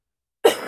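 A single short, sharp cough from an adult crafting at a table, close and loud, following silence.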